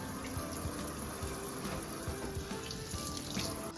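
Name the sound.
rinsing homemade butter under running water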